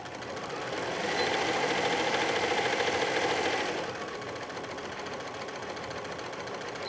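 A home sewing machine runs a steady, close-up whirring burst for about three seconds, stitching a seam on a cotton pillowcase, then stops and leaves quiet room tone.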